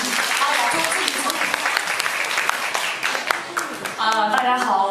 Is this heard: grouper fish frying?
no